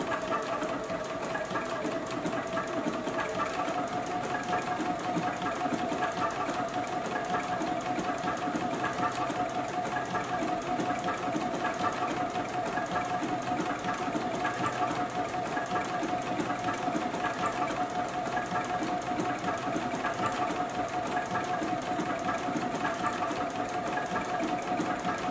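A JUKI sewing machine stitches a pattern for a beverage coaster, running in a steady, continuous mechanical whir with a sustained hum, constant in level and close by, with no voices over it.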